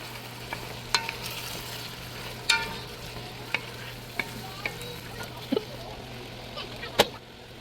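Crawfish pot pie mixture simmering in a pot and stirred with a spoon, soft steady bubbling under occasional sharp scrapes and clinks against the pot, fairly quiet throughout.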